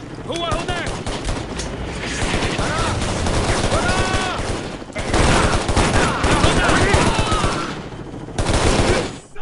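Rapid bursts of automatic gunfire in the video game Shadow Ops: Red Mercury, loud and dense, with several sustained volleys separated by short gaps, voices and game effects mixed in.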